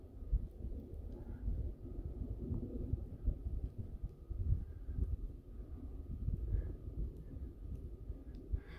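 Wind blows steadily at a mountain lake on a trail near Vail, Colorado, a low, continuous buffeting rumble with gusty swells and no voices.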